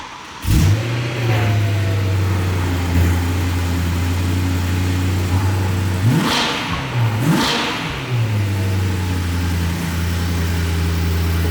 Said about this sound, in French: Qui a un son sympa à l'arrière et un bruit du moteur métallique à l'avant.